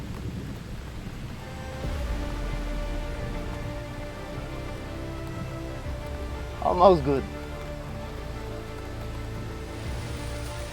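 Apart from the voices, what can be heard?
heavy rain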